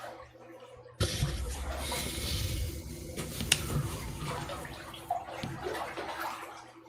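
Water sloshing and moving in a filled bathtub, a steady watery wash starting abruptly and continuing throughout with small splashes, close and moderately loud, with no voices.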